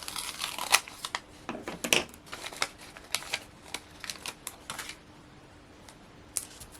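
Craft card being cut in half during card-making, a run of dry crisp snips and crinkles, close and quiet, irregular bursts with short pauses and no talking.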